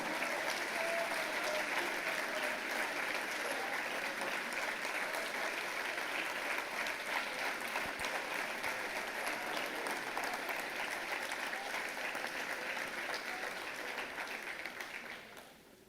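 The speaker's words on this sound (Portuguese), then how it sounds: "aplauda o Senhor e celebra o seu nome" Sustained congregational applause fills a church service, a steady dense wash of many hands clapping that holds throughout and only begins to thin near the end.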